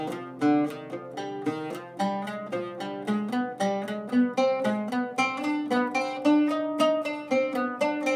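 An oud plays a warm-up scale exercise at a quicker pace, a run of plucked notes in steady succession climbing and returning, resolving on C, each pluck bright and close with no talking.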